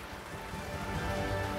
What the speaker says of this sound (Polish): Zaczął padać intensywny deszcz